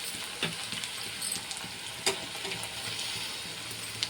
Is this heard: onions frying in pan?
yes